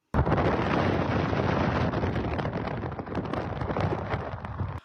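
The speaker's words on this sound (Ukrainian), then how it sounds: "Після вибухів у небо здійнявся чималий стовп полум'я." A sudden, loud roaring blast from explosions at a gas terminal starts abruptly and rumbles on continuously for several seconds, dense and distorted like a large explosion or fire burst.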